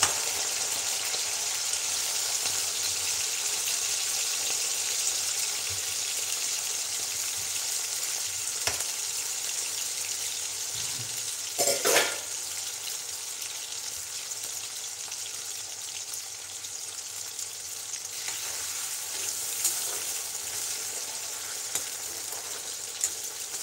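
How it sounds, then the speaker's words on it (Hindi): Potato finger chips for crispy hotel-style French fries sizzle steadily in hot oil, a continuous close frying hiss with occasional brief pops and stirring clatter. "फिंगर चिप्स फ्राई हो गए हैं, अभी और फ्राई करेंगे"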